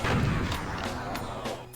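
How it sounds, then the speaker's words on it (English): A plasma gun fires at an Arachnotron in the video game Doom Zero, a rapid run of booming energy shots with a low rumble and a person talking over it. "We'll gun down one Arachnotron with the plasma, and then we'll just super shotgun the next one."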